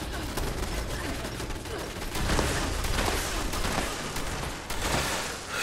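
Shotgun fire in the video game Fallout 76, a dense run of loud, broadband blasts and mechanical clatter packed closely together, with no clear gaps between the shots.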